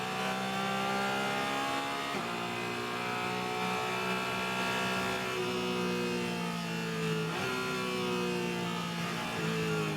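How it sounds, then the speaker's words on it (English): In-car sound of a Porsche Cayman GT4 CSMR race car with a 4-liter engine racing at Sonoma in the Trans Am Series, engine loud and close, climbing through the revs with sharp drops at each gearshift. "David Hampton we're in car with. Porsche Cayman, 4-liter."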